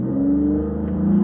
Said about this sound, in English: Growl, growl, intake, loud exhaust.